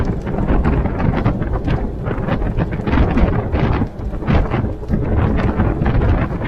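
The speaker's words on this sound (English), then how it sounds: "it's gonna be like the highway wind" Steady, loud highway wind roaring over a no-lift Jeep TJ on narrow offroad tires at speed, a broad buffeting rush with gusty swells and a brief dip near the middle, no talking.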